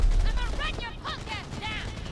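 Gunfire in Cyberpunk 2077, a quick run of shots in a combat scene, with several sharp bursts mixed with ringing, warbling tones and a low rumble underneath.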